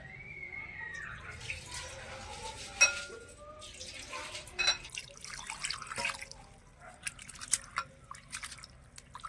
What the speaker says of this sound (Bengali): এই চিড়েটা পরিষ্কার করে একটু ধুয়ে নেব জল দিয়ে